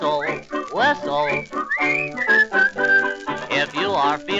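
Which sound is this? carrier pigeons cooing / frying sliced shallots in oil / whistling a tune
whistling a tune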